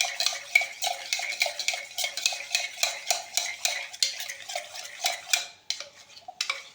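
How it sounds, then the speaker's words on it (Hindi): Hand-feeding formula for baby parrots stirred briskly in a small container, a steady run of quick scraping, clinking spoon strokes close up, with no talking. "तो मैं इसको अच्छे तरीके से मिक्स कर रहा हूँ"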